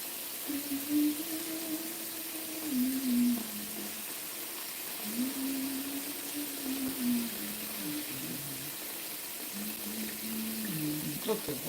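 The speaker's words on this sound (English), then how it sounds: "we wait for the water to fill up" A tap runs water into a kitchen sink as it fills, a steady faint hiss under a person talking.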